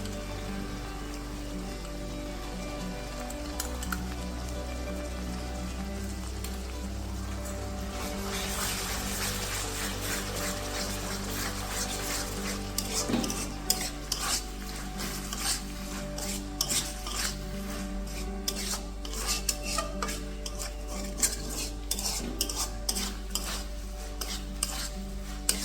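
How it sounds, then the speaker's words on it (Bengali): Ginger garlic paste for chicken curry fries in a pan, sizzling steadily while a utensil scrapes and clinks in repeated close stirs that grow busier partway through, with no talking. "এই মুহূর্তে কিন্তু আমি তাহলে আদা রসুন বাটাটাকে দিয়ে দেবো।"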